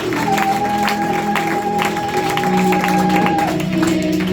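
A church congregation loudly applauds and acclaims Jesus, a dense, sustained roar of clapping and cheering voices that stays at full strength throughout, with steady music tones underneath.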